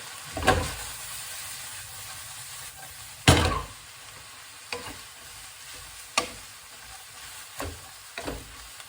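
Bean sprouts and noodles stir-fry in a hot pan, a soft continuous sizzle broken by several sharp scraping tosses of the utensil at irregular intervals.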